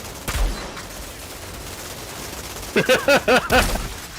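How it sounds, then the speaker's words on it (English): Sniper rifle fire in the Outriders game: a sharp, close shot near the start. A cluster of harsher, ringing bursts follows a few seconds later, with quieter background noise between them. "I'm just popping all their heads with this sniper"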